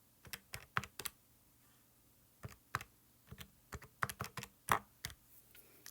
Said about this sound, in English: So we can type that into our calculator.